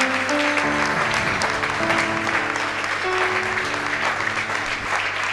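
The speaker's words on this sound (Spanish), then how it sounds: "dale fuerte el aplauso a Cristo si querés" Congregation applause at a Christian evangelistic gathering, a dense sustained roar of clapping under a steady musical backing with organ-like tones, loud and continuous throughout.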